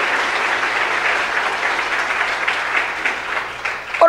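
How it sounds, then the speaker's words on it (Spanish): A church congregation applauding during a sermon, a dense wash of steady clapping from many people, loud and even throughout. "Dale un fuerte aplauso al Señor por su amor y su misericordia."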